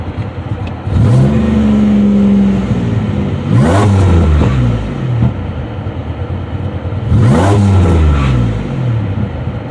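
A 2007 Pontiac Grand Prix GT engine is revved three times in quick bursts, each rising sharply then falling back to idle, loud and close with nobody talking.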